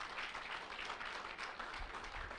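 Applause from a church congregation during a Spanish-language theology class, a steady broadband clatter of clapping heard alone for a couple of seconds at moderate distance.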